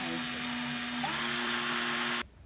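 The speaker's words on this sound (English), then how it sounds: "Make sure your drill is in the forward position and then just" Power drill spinning in forward to twist wires together for a bird feeder, a steady whining motor hum that cuts off abruptly at the end.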